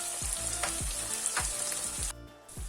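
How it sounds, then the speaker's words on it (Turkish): Minced meat sizzles and crackles steadily in a pan while being cooked for içli köfte filling, with a few stirring scrapes and a brief dip in the frying noise near the end. "Kıyma 5 dakika daha kavrulduktan sonra 1 tatlı kaşığı biber salçası ilave edip karıştırıyorum."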